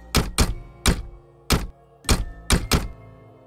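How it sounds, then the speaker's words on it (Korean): Knocking on a door, heard as a sound effect: loud, close, hollow knocks in uneven pairs and singles, about seven or eight raps with short gaps and nothing else audible. "문을 두들기는 소리가 더욱 시끄러워졌습니다"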